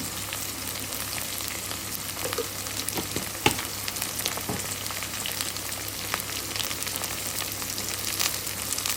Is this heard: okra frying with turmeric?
yes